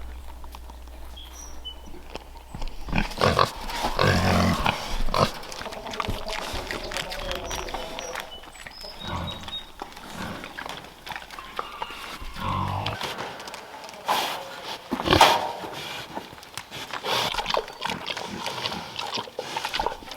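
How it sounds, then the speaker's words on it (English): Pigs eat hard-boiled eggs in a garden pen with wet chomping and munching, snuffling grunts and scattered knocks, fairly close and continuing throughout. "They definitely enjoy their hard-boiled eggs."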